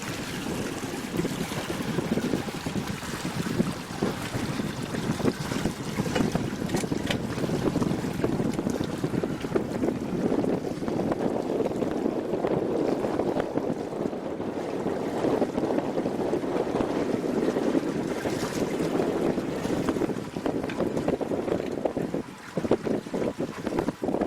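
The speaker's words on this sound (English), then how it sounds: "Let's slow her down and let's bring the engine up just in case." A 2013 SeaFox 226 Pro Series center console boat moves slowly on open water, a steady low engine rumble mixed with wind buffeting the microphone and water washing against the hull throughout.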